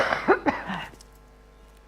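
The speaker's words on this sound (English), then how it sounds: "Nasty cough" A couple of short, sharp coughs close by, followed by near silence.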